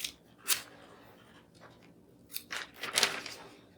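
A few crisp snips of scissors cutting paper, two louder bursts separated by quiet rustling, close and clear with no talking.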